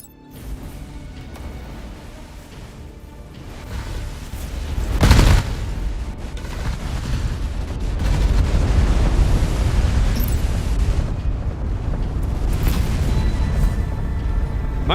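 Space battle explosions in the video game Sins of a Solar Empire 2: one sharp, loud blast about a third of the way in, set within a continuous rumbling wash of combat noise that swells and stays dense to the end.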